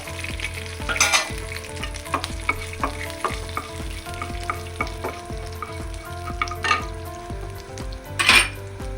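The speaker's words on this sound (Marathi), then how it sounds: "जरास परतून घेतल्यावर आता आपण घालतलो असं जिरा" Cumin seeds fry in hot oil after cloves, a steady close sizzle broken by repeated metal spoon stirs and clinks against the pot, with no voices.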